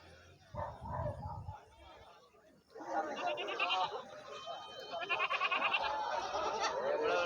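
Goats bleating at the Oddanchatram Thursday goat market in Tamil Nadu, with low calls early on, then a busy crowd of animal cries and market chatter continuing loudly throughout.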